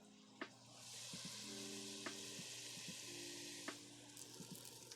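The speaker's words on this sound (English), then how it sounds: "This is the meat sizzle." Meat fries in a hot pan with a steady broadband sizzle, punctuated by a few sharp pops and faint clinks of stirring, heard close and alone with a low background hum.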